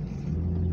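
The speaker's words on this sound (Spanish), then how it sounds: "Está intenso el tráfico." Heavy street traffic on Calzada de Tlalpan, a brief steady low engine rumble nearby with a faint rise as if a vehicle is accelerating.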